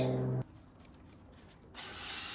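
Cleaner sprays onto a truck wheel: a short sharp spray hisses briefly, goes quiet for about a second, then a longer steady spray hisses loudly close by.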